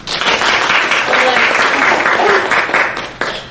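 An audience applauding at a community event for a land trust: loud, sustained clapping from a crowd that tapers off near the end, with a voice speaking over it.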